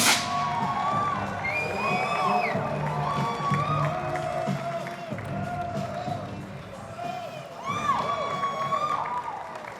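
A stadium-style audience cheers and whoops at an event hyping Coach Deion Sanders, a continuous crowd roar with shouts rising and falling throughout, voices mixed into the din.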